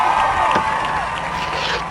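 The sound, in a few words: audience clapping and cheering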